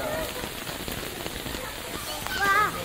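Rain falls on surfaces on a rainy day in Sindh, a dense, steady patter of drops close by, with a brief faint voice near the end.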